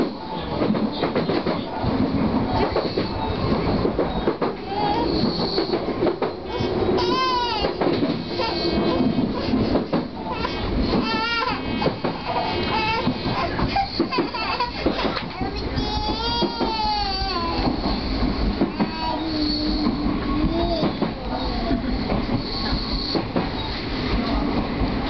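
An Odakyu Tama Line train runs along the tracks between Satsukidai and Shin-Yurigaoka, with steady rumbling wheel noise, rhythmic clatter and squealing over the rails throughout, heard from inside the cab.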